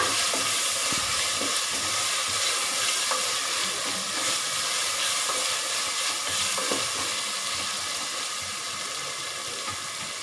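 Mutton biryani mixture stirred and fried in a pot, a continuous close sizzle with scraping stir strokes, steady throughout and alone without voices.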